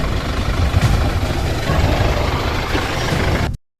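A government vehicle's engine idles steadily nearby, a continuous low diesel-like rumble with no talk, cutting off abruptly near the end.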